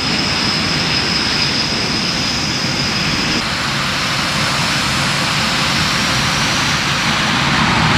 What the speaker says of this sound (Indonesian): Wow, pesawat tempur Air Force.